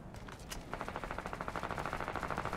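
Gunfire in Fortnite: a few scattered shots, then a rapid steady burst of automatic fire rattling in even pulses, moderately loud and at some distance.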